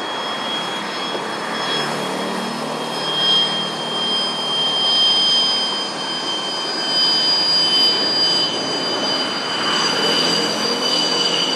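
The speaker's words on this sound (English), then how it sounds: "F-16 rushed out of the runway when landing." An F-16 fighter jet lands on a runway, giving a steady, loud roaring rush with a high whine that holds throughout.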